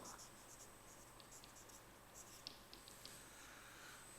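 Pencil writing on paper while drawing a bar graph, a faint continuous scratchy scraping up close with a few light taps, under a low steady background hum.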